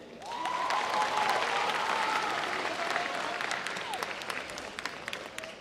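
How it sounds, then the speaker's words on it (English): An audience at a New York FFA convention session gives a round of applause, steady and fairly loud for about four seconds before thinning into scattered claps, with faint tonal sweeps heard beneath. "a little round of applause for me"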